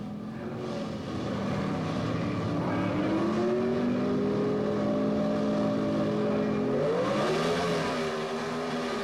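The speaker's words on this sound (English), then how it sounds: "that powerful Ford Mustang pulls out the win" Two Pro Stock drag cars, a Ford Mustang and a Chevrolet Monza, roar through a 1977 race run, loud sustained engine drone rising in pitch as they accelerate, with a gear change shift near the end and no voices.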